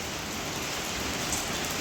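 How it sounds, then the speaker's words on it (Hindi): Steady heavy rain falls at night outside a hotel room balcony, a dense continuous hiss of drops on surfaces with no pauses. "2 घंटे से कॉन्टीन्यूसली बारिश हो रही है।"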